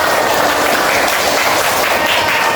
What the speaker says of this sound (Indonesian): terima kasih tepuk tangan bagi kita semua